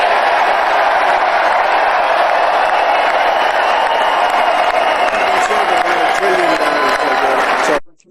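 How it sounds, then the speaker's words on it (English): Large crowd cheering and applauding at a political event, a loud sustained roar of voices and clapping that holds steady before cutting off abruptly at the end, with speech mixed in. "The fact they're cheering that"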